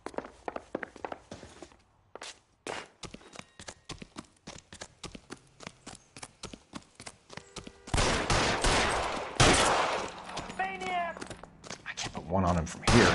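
Gunfire in an LA Noire cutscene: a long run of sharp, rapid shots and impacts that is loud and close, followed by a denser burst of noise, with voices shouting over parts of it.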